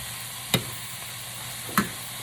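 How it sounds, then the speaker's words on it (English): A pan of plant-based chicken and chickpea fettuccine steams with a low, steady sizzle. Two sharp clicks of stirring against the pan stand out. "I'm going to let this steam just a little bit."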